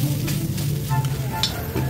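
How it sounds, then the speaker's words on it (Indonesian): Nasi goreng frying in an iron wok over a charcoal fire, a steady close sizzle with scraping and stirring strokes and a constant low hum beneath. "Ini lagi masak nasi goreng kita."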